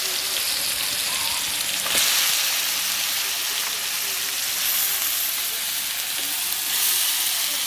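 Onions and tomatoes fry with salt in a pan, a continuous close sizzle and crackle with occasional stirring scrapes, loud and steady throughout.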